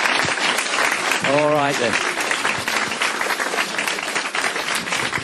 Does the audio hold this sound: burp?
no